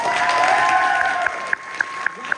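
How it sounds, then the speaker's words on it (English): Crowd at a live comedy show applauds for a troupe manager, a steady wash of clapping and cheering, with a few sharp louder claps near the end. "give a round of applause for Riley"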